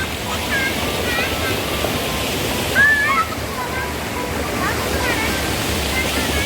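Continuous rushing of a waterfall in Idukki, a dense even roar of falling water close by, with a short voice breaking through briefly partway in.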